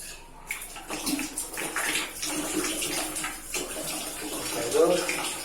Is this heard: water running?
yes